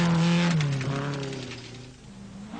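A Triumph TR V8 rally car races on a 1980 Scottish rally stage. Its engine roars steadily close by, with the pitch sliding and revving continuously and no voices over it.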